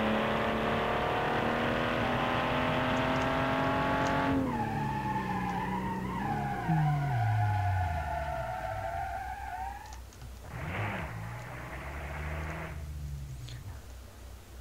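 A car in BeamNG.Drive revs hard with a dense, harmonic engine note, then skids into a falling, sliding rumble, followed by brief squeals and another short burst of tire noise; loud and close with no talking.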